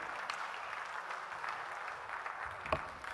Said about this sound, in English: Please keep clapping as he takes his seat.